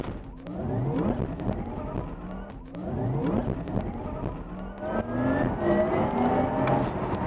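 A Porsche Taycan Turbo electric car launches hard from a standstill with all four wheels spinning. Loud, close rising motor whines sweep upward in repeated surges over a rough bed of tire and road noise.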